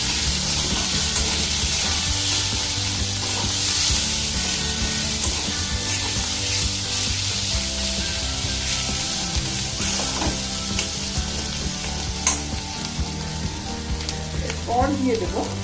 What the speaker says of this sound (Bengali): এইভাবে মশলাটা আমি ভাজবো।